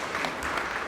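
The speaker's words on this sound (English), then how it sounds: "Mpigie makofi." At a student training session on a new university funding model, the crowd gives a short burst of applause for a speaker. The dense clapping is steady for under a second.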